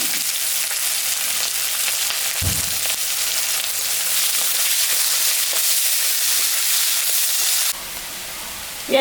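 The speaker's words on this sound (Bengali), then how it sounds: "কাটা পেঁয়াজটা দিয়ে দিলাম।" Chopped onion dropped into hot oil for a mrigal fish curry sizzles in a loud, steady, close hiss that runs unbroken, then drops suddenly in level near the end as if stirred or the heat changes.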